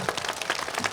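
Quick, rhythmic clapping from an audience at an elementary school first-grade performance, a brief moderately loud burst of hands.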